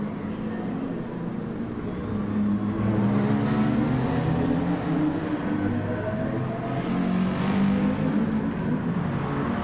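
Porsche and Nissan racing cars in a racing video game at Laguna Seca hold a sustained, loud engine drone down a straight, the pitch wavering slightly as they run in a slipstream, with no talking.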